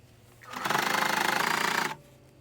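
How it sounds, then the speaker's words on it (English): Sewing machine top stitching a cargo patch pocket, running in one steady burst of about one and a half seconds with a fast even rattle, close and fairly loud, then stopping. "So here I am top stitching my pockets to keep it flat and neat"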